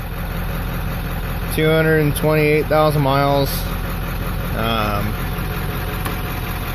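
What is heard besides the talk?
1995 Ford Powerstroke diesel engine idling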